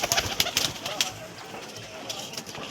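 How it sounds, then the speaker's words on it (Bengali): Punjabi pigeons at a home pigeon sale coo in short repeated bursts, close and fairly soft, with brief wing flutters and light background noise. "দেখো পায়রা দুটো স্ট্যান্ডিং দেখো"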